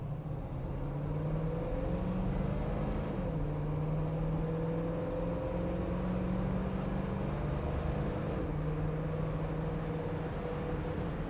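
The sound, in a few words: 1966 Ford Mustang engine running through the gears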